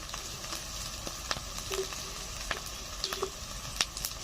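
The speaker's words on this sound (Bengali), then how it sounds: "মশলা ভালো করে কষতে নিচ্ছি" A paste of ginger, garlic, cumin, green chilli and Kashmiri red chilli powder sautés in a pan with salt and turmeric, a soft continuous sizzle broken by light scraping stirs and small pops.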